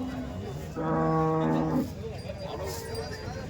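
A cow at a cattle market in Chalisgaon, Maharashtra, lets out a single drawn-out, low moo lasting about a second, with people talking quietly nearby before and after.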